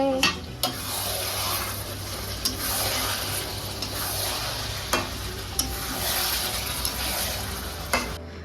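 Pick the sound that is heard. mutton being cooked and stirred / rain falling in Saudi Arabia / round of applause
mutton being cooked and stirred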